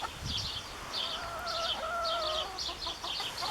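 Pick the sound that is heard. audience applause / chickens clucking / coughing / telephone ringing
chickens clucking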